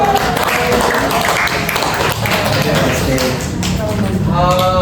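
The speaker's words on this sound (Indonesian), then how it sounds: "Kasih tepuk tangan dulu." Fourth-grade pupils in an elementary school math class clap loosely together, a scattered, close patter of hands mixed with children's voices and classroom chatter.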